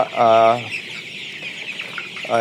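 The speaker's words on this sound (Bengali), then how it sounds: "তো এই ছিল আমার টাইগার মুরগির ভিডিওটা" Tiger chickens raised for meat cluck close by, one loud drawn-out cluck at the start and another at the end, with soft farmyard background noise between.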